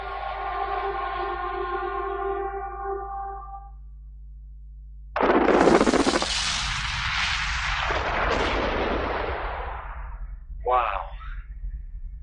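Massive open-pit gold mine blast using 180,000 tonnes of explosives: a sudden deep, loud booming detonation that rumbles and roars for several seconds, followed by a sharp secondary crack; a tonal musical drone precedes it.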